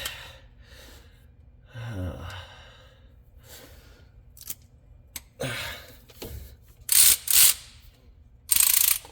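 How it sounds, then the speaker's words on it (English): A Snap-on ratchet with extension, wobble adapter and 13 mm socket works on a 2003 Silverado oil pump, giving a few short, close clicking ratchet bursts between breathing and quiet pauses. "you get your snap-on ratchet with your snap-on extension and your snap-on wobbly and your snap-on 13 millimeter"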